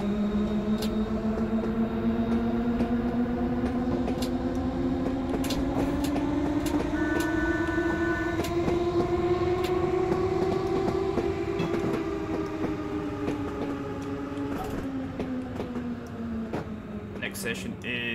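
A London Underground District Line train running in Train Simulator, with a continuous rolling rumble and a motor whine that rises in pitch then falls away, loud and close throughout.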